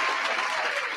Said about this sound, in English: Applaud to the single parents.